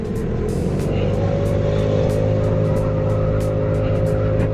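A RUSI RFi 175 motorcycle engine idles and revs under throttle that is slow to return, a loud steady close drone with small ticking sounds above it.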